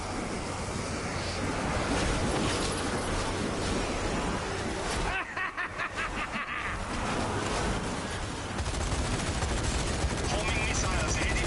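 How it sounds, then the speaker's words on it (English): Sustained gunfire in the zombie shooter Zombie Army 4, a dense continuous barrage mixed with explosions and game effects, loud throughout with a brief dip midway and a voice occasionally over it. "Watch that machine gun."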